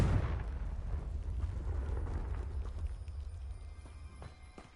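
Fiery spell explosion in Hogwarts Legacy, a loud blast at the start that decays into a long low rumble and fading crackle, with no voices.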